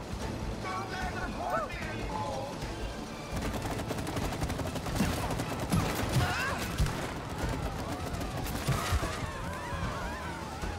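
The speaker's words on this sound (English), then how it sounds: "I'm shooting the chain. You gotta shoot that chain, bro." Gunfire from the video game It Takes Two, fired at a chain holding someone up, crackles in dense bursts throughout, mixed with game music and effects while players talk over it.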